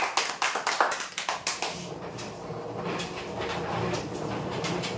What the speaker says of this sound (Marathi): जोरदार टाळ्या होण्यासाठी।